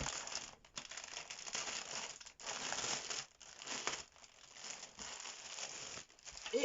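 Plastic wrapping crinkles and rustles as a cross-stitch kit package is opened, in continuous close-up bursts with short pauses between them, with no talking.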